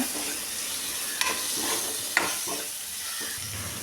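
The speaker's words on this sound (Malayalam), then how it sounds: "ഇനി ഇതിലേക്ക് ഒരു വലിയ തക്കാളി കൂടി നമുക്കിതിലേക്ക് ചേർത്ത് കൊടുത്ത് ഒന്ന് വഴറ്റിയെടുക്കാം" A large tomato sautéed in a pan with okra masala sizzles steadily while a spatula stirs, giving a couple of sharp clinks against the pan and softer scraping strokes, no talking.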